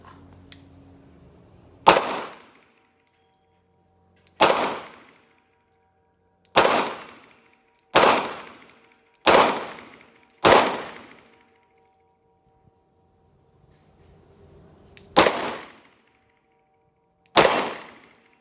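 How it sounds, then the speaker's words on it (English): Eight sharp pistol shots from a compact Staccato C DUO with a 3-inch barrel, fired at a range in an uneven sequence with short pauses, each crack loud and close with a brief ringing tail. "Let's see what I can do with that little 3-inch popper."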